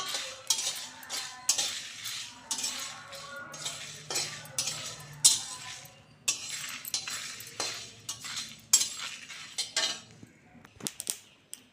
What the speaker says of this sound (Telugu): బాగా దోరగా ఫ్రై చేసుకుంటాం.